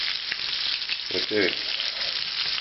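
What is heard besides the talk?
beef bones browning, sizzling in a pan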